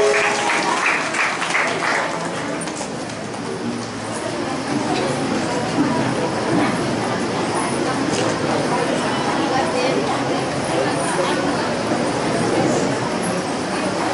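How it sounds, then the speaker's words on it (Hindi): A church congregation claps loudly for Jesus Christ in a dense, continuous round of applause that fills the whole stretch, with a voice speaking over it at times. "एक बार जोरदार यीशु मसीह के लिए ताली बजाएंगे।"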